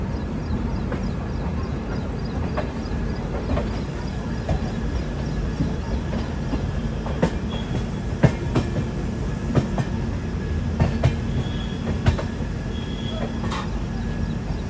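Garib Rath Express pulling into busy Kanpur Central station, a continuous rolling rumble with sharp rail-joint clicks and clacks recurring through it, close and steady, with a faint voice at times.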